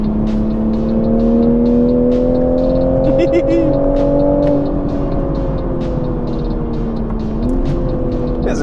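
A Toyota Supra driving on a snowy back road, its engine note holding a steady drone that rises and falls gently with throttle, heard from inside the car while a person talks over it.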